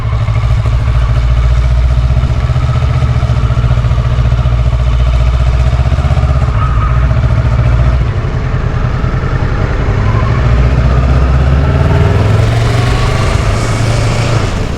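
Kawasaki 2012 Ninja 650 RL motorcycle engine running steadily and close, a low continuous rumble with a slight change in pitch near the end, with no talking.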